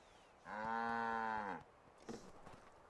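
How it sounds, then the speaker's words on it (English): A single loud, drawn-out cow moo from a cow in the video game Assassin's Creed III, close and clear, followed by a brief rustling thump. "I think yes, I can pet the cows."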